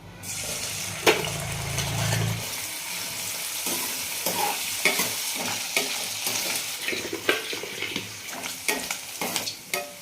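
Chicken pieces fry in oil for a homemade chicken pickle, a steady close sizzle with a low hum at the start, then frequent scraping stirs.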